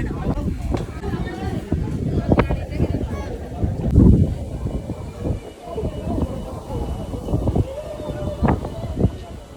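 Strong wind gusting on a hilltop at Kodikuthimala in Malappuram, buffeting the microphone in a constant loud rumble with sharp gust peaks, while people talk over it throughout.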